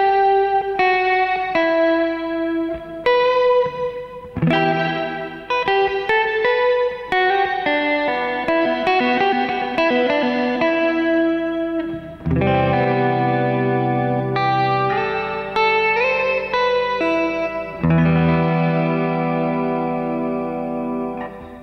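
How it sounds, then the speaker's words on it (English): Guitar through a Strymon Big Sky reverb pedal set to a shimmer patch: sustained, layered chords with bright, octave-like overtones swell and blend into a continuous wash, with a strong attack near the middle as new chords ring out. "we are actually using the shimmer effect here"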